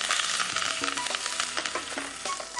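Mustard seeds and a heap of curry leaves sizzle and crackle in hot oil in a kitchen pan, a dense continuous hiss with scattered pops and faint stirring clinks throughout.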